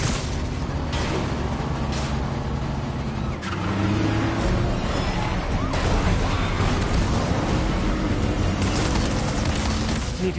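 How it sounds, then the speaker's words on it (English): Dense, loud barrage of rocket explosions and booming blasts with roaring vehicle noise in a Manhattan street battle in the Spider-Man video game, continuous for about ten seconds, with voices faintly mixed in. "Why is everyone shooting rockets all of a sudden?"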